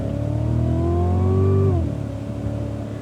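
A Cadillac CTS-V on the COTA race track holds a steady, loud engine drone with rising pitch as it accelerates, then the revs drop sharply near the end as throttle lifts.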